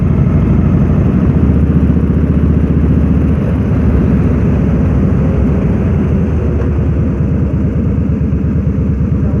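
Harley-Davidson motorcycle engine rumbles steadily as it rides down a road, a loud, continuous low throb with wind noise throughout and no speech.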